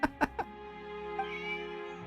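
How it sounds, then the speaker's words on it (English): A cat meowing in the Genshin Impact video game, three quick close meows in a row, then a softer drawn-out meow, heard alone over faint background music. "She's playing with a cat."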